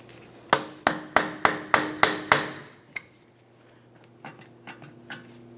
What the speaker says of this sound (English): Use a hammer and punch directly in the center here.